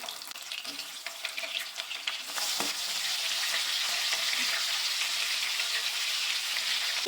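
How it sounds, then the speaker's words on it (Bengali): Fish sizzles and crackles in hot mustard oil, a steady frying hiss that grows louder after a couple of seconds and continues without a break. "এবার আমি একটা একটা করে মাছ ভাজবে দিচ্ছি"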